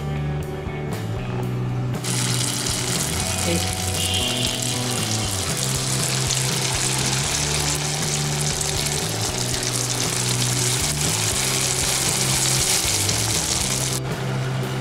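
Batter-coated purnam burelu dumplings frying in hot oil, a loud, steady sizzle and crackle that swells sharply after a quieter start and stays dense and continuous, close by without talk.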